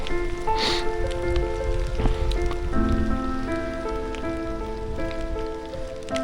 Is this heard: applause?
no